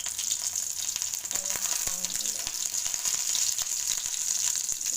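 Dried red chillies and curry leaves sizzle in hot oil with a constant hiss and scattered clicks and pops, heard close up for several seconds with a faint clatter of utensils.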